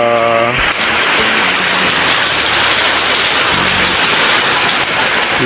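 Heavy typhoon rain pours down in a dense, continuous roar, steady and loud throughout with no voices.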